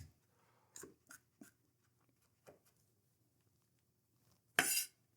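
A knife chops garlic on a cutting board while ragout ingredients are prepared: a handful of sharp, separate taps spaced irregularly, then one louder, longer clattering burst near the end, with no talking.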